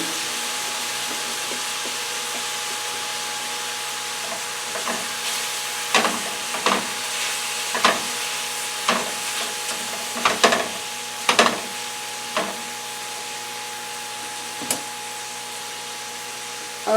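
Teriyaki beef and pineapple chunks, cut from T-bone steaks, stir-frying in a pan: a steady close sizzle and hiss, broken by repeated clacking scrapes of a utensil being stirred through the food.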